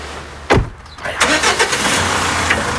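A car engine cranks and catches, then settles into a steady idle, loud and close, with a sharp thump just before the start.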